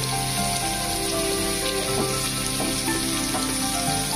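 A thick-cut onion drops into garlic frying in a hot pan while cooking pumpkin with ayr fish, giving a steady, dense sizzle and crackle that runs the whole time without a break, close and fairly loud, with no talking.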